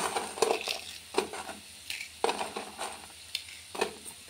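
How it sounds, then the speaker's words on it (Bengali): Dried lentil dumplings (bori) are crushed by hand in short, uneven bursts of crunching and crackling, with quiet gaps between them and no voices. "বড়িটা গুঁড়ো করে নেই বন্ধুরা, একটুখানি গুঁড়ো করে নিই তারপর দিচ্ছি"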